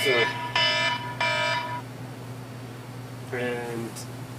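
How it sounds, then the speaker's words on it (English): A battery-charging timer alarm sounds in a workspace where LiFePO4 cells are charged and tested, giving three loud harmonic beeps close together, then a pause before a fourth, over a steady low electrical hum. "that was my timer for the batteries"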